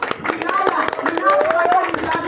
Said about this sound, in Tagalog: Palakpak kayo